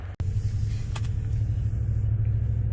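A 2020 Toyota Tundra Pro pickup truck drives along a ditch-side road, its steady low engine and road rumble droning close and continuous, with a brief dropout near the start.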